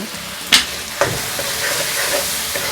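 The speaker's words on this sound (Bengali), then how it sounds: "নেড়েচেড়ে মশলাটা কষিয়ে নেব।" Spice paste and winter vegetables fry and get stirred in a pan for a vegetable curry: steady close sizzling with a few sharp scrapes of the spoon near the start.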